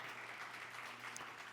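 Church congregation clapping for Jesus Christ during a Spanish-language service, a faint, steady wash of applause with a low hum underneath.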